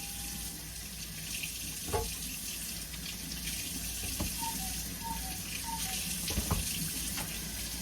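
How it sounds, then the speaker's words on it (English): Fresh tomatoes are washed under a running kitchen tap. The water rushes in a steady, close stream, broken by a few soft knocks as the tomatoes are handled. "I'm going to just wash them and throw them in the bowl."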